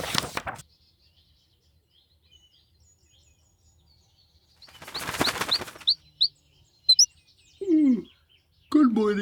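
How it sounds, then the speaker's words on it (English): A golden songbird lands at a window with a dense burst of flapping wings, then gives a few short, clear chirps and tweets close by, alone without voices. "I awoke to find a golden songbird perched in my window."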